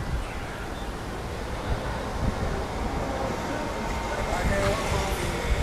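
Gusty wind buffeting a microphone at Waikiki Beach, a constant broadband rumble and hiss that rises and falls slightly, close and fairly loud.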